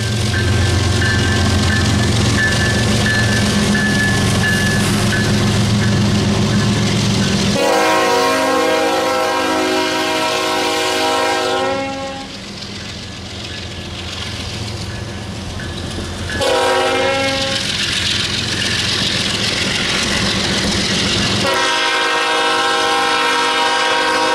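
CN GEVO freight locomotives pass close by in Chesterton, Indiana, sounding long, loud horn blasts over a continuous heavy rumble and clatter of rail cars.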